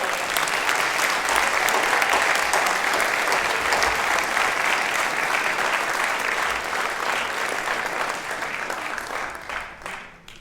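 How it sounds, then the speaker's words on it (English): A large graduation commencement audience for a university College of Engineering applauds loudly and steadily for about ten seconds, a dense wash of clapping that thins out at the very end. "May I have a big, big round of applause for all of them."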